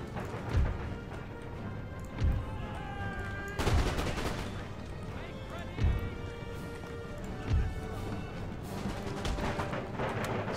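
Horse Guards cavalry gallop across an Empire: Total War battlefield, a steady drumming of hooves mixed with repeated sharp volleys of musket gunfire and dense battle noise.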